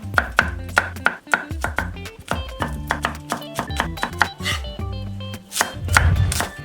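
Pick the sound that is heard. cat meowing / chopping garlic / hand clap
chopping garlic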